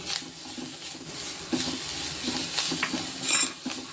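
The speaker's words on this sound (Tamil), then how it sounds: "இதை எல்லாத்தையுமே இப்போ வந்து நல்லா வதக்கிக்கிறோம்." Crushed pepper, cumin and coriander sautéing in a pan for mango rasam, giving a soft steady sizzle with scattered scraping stir strokes and light utensil clinks, close and without talk.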